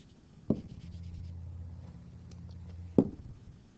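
A stylus scratches and drags across a tablet screen, two sharp taps bracketing a steady low scraping stroke, close and fairly quiet with no voice.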